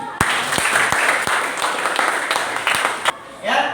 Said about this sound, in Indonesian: Tepuk tangan untuk diri.